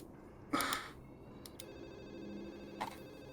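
Telephone ringing in the Urban Runner video game, short bright ring bursts, one strong near the start, two brief taps and a softer ring later, heard over a quiet low background hum.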